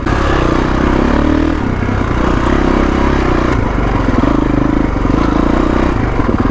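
A 2021 Kawasaki KX450X dirt bike on a trail ride, its engine loud and close with a continuous rough, clattering drone that rises and dips with the throttle.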